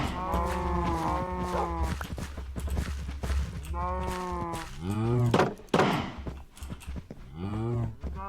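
Cows in Minecraft moo repeatedly and loudly close by, several long lowing calls overlapping, with a few thuds and hoof-like clops between them.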